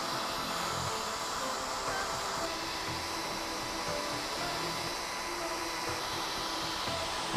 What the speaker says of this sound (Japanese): ドライヤーの熱は、最初根元の方から当てるようにして、後ろから前方向に向かって乾かしていきます